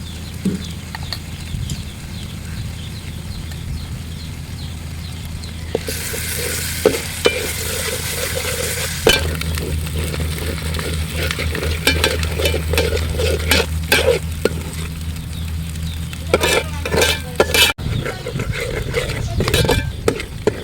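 Ginger garlic paste fries with ground onions in a pot for a beef biryani, a continuous sizzle broken by scraping and clattering as a spoon stirs the mixture, lasting about twenty seconds.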